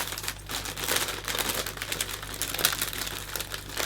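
A cellophane sheet is handled and gently crinkled while arranging a Christmas gift bag, producing soft continuous crackling and rustling close by, quiet and without talk.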